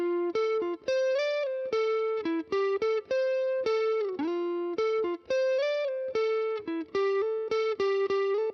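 Electric guitar through a Morgan Amp Suite AC20 amp plugin with no pedals, gritty and biting, plays a busy riff of sustained, overdriven notes and short stabs in steady rhythm, loud and close with no talking.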